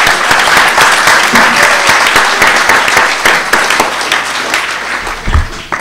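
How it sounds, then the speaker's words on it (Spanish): Audience applause at the closing ceremony of a Latin American political ecology congress, dense steady clapping from a sizeable crowd that fades slightly toward the end, with a brief thump at the close. "quiero pedir que le demos un aplauso a Michael, que está de cumpleaños"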